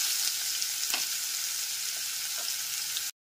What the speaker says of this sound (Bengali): এবার পেঁয়াজ, রসুন আর কাঁচা লঙ্কার যে পেস্টটা সেটা দিয়ে দিচ্ছি।